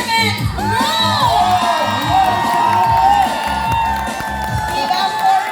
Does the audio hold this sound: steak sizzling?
no